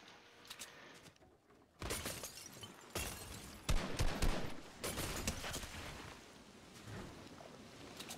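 Gunfire in a Fortnite Battle Royale match, several loud sharp shot bursts and impacts spread over eight seconds, separated by quieter stretches of ambient game noise.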